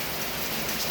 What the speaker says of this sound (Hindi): बारिश हो रही है बहुत जोरों से।